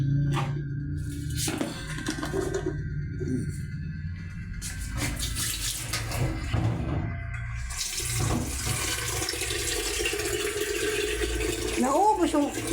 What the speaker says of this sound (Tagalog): Mag-init tayo tubig